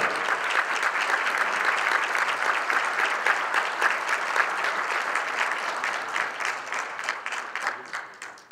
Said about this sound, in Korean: 큰환호 박수 부탁드리겠습니다